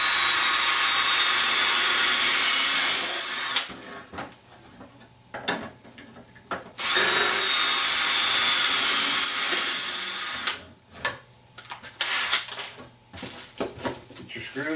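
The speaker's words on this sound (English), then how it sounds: "go ahead and pre-drill the antlers" A power drill with a 3/16 bit pre-drills holes in antlers, whining loudly in two long bursts separated by pauses filled with clattering handling noises and short drill blips near the end.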